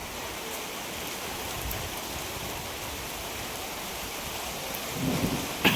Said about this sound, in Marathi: भरपूर भरलाय पाऊस नुसतं गडगडतोय पण तेवढंच.